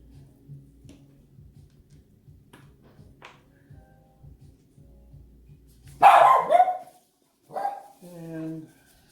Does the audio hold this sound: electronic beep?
no